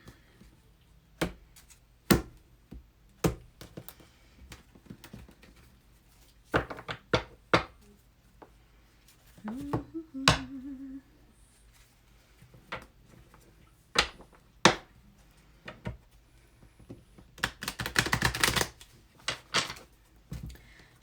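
Irregular sharp riffling clacks and soft slaps of cards being shuffled nearby, in short bursts with pauses between, ending in a longer rapid flurry.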